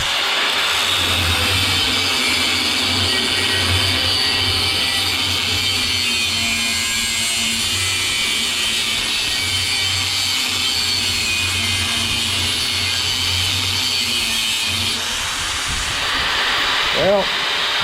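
A power tool cutting open a scrap AC compressor makes a steady, loud hissing grind with a low motor drone underneath, holding for most of the stretch before easing near the end.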